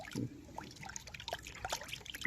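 Water trickles and splashes into a container to mix with a spoonful of laundry detergent for a homemade garden pest spray, a soft, uneven pouring sound with faint background noise.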